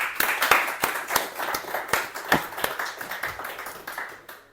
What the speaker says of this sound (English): just give a round of applause for Heather for turning up